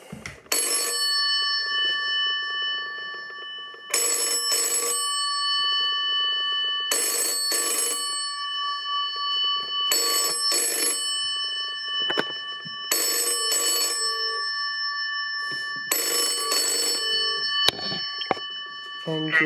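A 1950 PMG series telephone rings loudly and up close, its bell sounding in repeated double bursts about every three seconds, with short silences between them.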